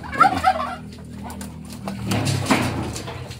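Muscovy ducks give soft, close, raspy calls in a short burst, followed by low muffled shuffling and background noise.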